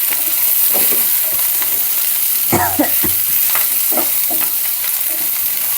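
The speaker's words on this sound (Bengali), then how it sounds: "ভাজা ভাজা হয়ে গেছে আর একটু ভাজলে পুড়ে যাবে" Fish frying in a pan on low heat, a continuous close sizzle with scraping stirs from a spatula recurring every second or so.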